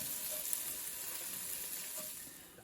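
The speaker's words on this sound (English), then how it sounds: "Add the garlic and cook for an additional 3 minutes." Garlic added to onions frying in a pan, a soft continuous sizzle and hiss at low volume, steady and uninterrupted throughout.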